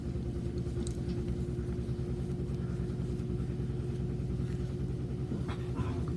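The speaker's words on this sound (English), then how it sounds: "I have a washing machine running" A washing machine runs steadily in the background, a constant low rumble and hum with faint scattered scuffles on top, and no talking.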